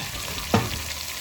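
Half a green pepper, half a red pepper and half a red onion sizzle in a pan with a soft, steady hiss, broken once by a short clunk midway. No one talks.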